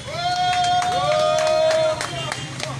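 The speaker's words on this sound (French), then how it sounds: "Est-ce qu'on peut applaudir pour Général 10?" Scattered clapping and crowd noise at an outdoor awareness campaign rally, with a long, steady, high-pitched whistle or shout held over the applause for most of the clip.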